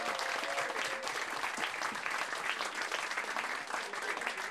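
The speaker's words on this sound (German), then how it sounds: "Nochmal herzlichen Applaus und vielen Dank." Applause from the crowd at a sports club summer festival in Ludwigshafen, continuous brisk clapping that stays full and even, with faint voices blended in among the hands.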